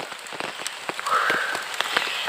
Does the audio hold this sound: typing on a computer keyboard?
no